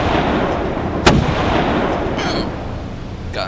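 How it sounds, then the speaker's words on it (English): Gunshots in the horror video game Dagon: a single sharp report rings out over a dense, rumbling ambient bed, followed later by fainter echoing pops in the distance. "Gunshots?"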